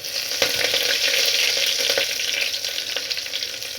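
Ginger, crushed garlic and curry leaves fry in hot oil for a rasam tempering, giving a loud, steady close sizzle with faint stirring clicks throughout.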